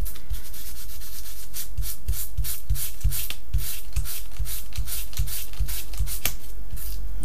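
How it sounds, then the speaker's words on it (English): Steady rhythmic rubbing as paint is worked by hand onto a car sun shade, a close, continuous scratchy brushing with regular strokes and no talk. "Oops, and I shouldn't rub too hard"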